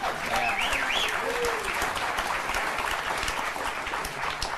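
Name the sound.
audience applause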